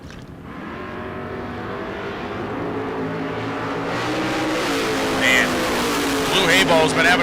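A 1963 Corvette and a 1965 GTO at a drag strip, engines droning and building steadily in pitch and loudness as they accelerate, with a voice speaking over the noise.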